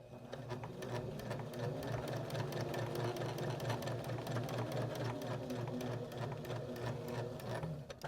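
A sewing machine stitches fabric for a small car freshener, an even rapid hum with a regular mechanical chatter, close and continuous throughout.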